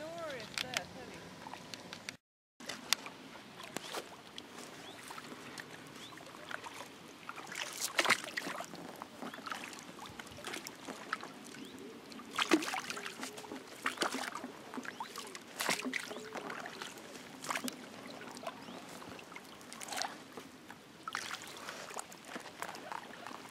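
A canoe is paddled along a river during a three-day wild camping trip, with soft, irregular dips and splashes of the paddle and quiet water movement heard over a long steady outdoor hush.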